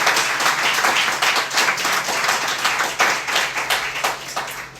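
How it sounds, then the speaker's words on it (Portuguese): A church congregation at Igreja de Nova Vida do Catete claps for the Lord, a steady, fairly rhythmic wash of many hands, loud and continuous throughout. "Dê uma salva de palmas ao Senhor."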